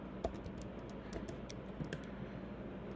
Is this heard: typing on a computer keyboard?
yes